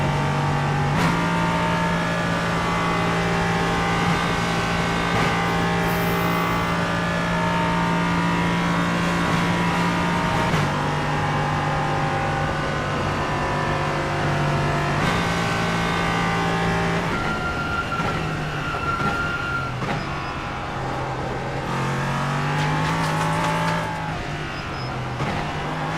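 Race car engine in the iRacing sim racing game, a loud steady drone that climbs and drops in pitch through gear changes and revving, continuous throughout with no voices.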